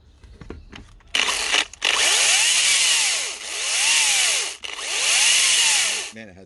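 A Makita 18V XPT brushless 10-inch top handle chainsaw starts with a couple of short bursts, then revs in three long surging runs that rise and fall, loud and close, before cutting off.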